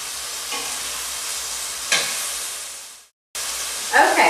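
Veal scallopine frying in olive oil in a pan, a steady close sizzle with a few scraping stir accents, cutting out briefly before the hiss resumes.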